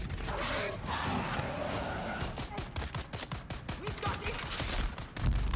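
Gatling gun fire in the Dune Awakening video game, a dense rapid burst of shots over busy game noise and distant yelling, loud and sustained through most of the stretch.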